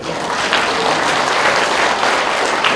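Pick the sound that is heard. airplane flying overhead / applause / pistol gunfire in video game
applause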